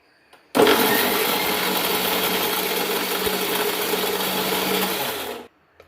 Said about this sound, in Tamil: இதை நம்ம மிக்ஸியில் அரைச்சி நம்ம இப்போ ஜூஸ் எடுப்போம்.